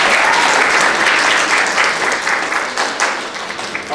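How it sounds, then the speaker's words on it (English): Audience applauding at a Black History Month art exhibit unveiling in Paterson: dense, steady clapping from a crowd, loud and sustained before gradually thinning out. "Let's give her another round of applause, please"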